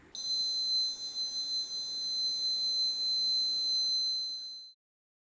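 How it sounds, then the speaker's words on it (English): An electronic buzzer alarm on a smart medicine box sounds one continuous high-pitched tone for about four and a half seconds, then cuts off abruptly into silence. "we have used a buzzer to make that alarming noise"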